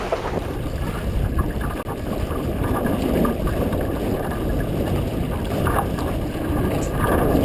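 The sailboat Dauntless pushes through water in steady wind, a loud rushing wash of hull and waves with heavy wind buffeting the microphone throughout.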